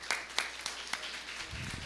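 Scattered applause from a church congregation during a Brazilian evangelical service, a few distinct claps standing out over a thin wash of hand-clapping, with a low murmur entering near the end.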